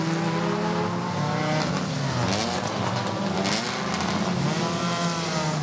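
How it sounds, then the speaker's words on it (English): Race cars in the Continental Tire Challenge at Virginia International Raceway pass on a wet, slick pit lane with wheel spin, engines whining loud and continuous with rising and falling pitch and tires squealing as they go by. "there's plenty of wheel spin from the cars as they're going past us in our broadcast suite"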